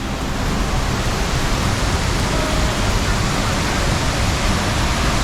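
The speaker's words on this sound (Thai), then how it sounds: "ฝนตกหนักมากเลยครับตอนนี้" Loud, close heavy rain falls at a waterfall in a constant roaring wash, unbroken from start to finish.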